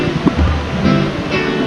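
A river flows past a riverside spot in Keylong, Himachal, at night, making a steady, close, full rushing wash of water that stays loud and even throughout.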